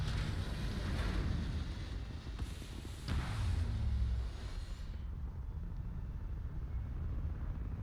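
Engine of a Beluga Class-C heavy cruiser spaceship in the game Starfield, a loud steady roaring rumble with a couple of swells that drops to a duller hum near the end.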